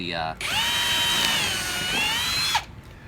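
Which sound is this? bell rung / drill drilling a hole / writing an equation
drill drilling a hole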